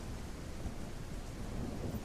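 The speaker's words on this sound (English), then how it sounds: "I hear thunder." Low rolling thunder rumbles steadily through a rain shower, a continuous distant boom with soft rain noise and no talking.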